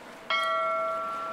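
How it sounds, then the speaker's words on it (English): A bell rings out once, sounding a clear struck note that rings on and slowly fades over light background noise. No one speaks. "Ring that bell."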